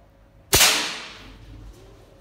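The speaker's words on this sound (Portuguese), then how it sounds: "Vou efetuar alguns disparos na potência máxima e depois na potência mínima." A single sharp air rifle shot at maximum power cracks once, then a faint ringing tail fades away in otherwise quiet surroundings.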